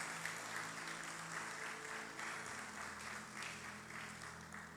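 Sustained applause from a church congregation at an Easter service fills the whole stretch, steady and fairly even, with a low musical hum underneath.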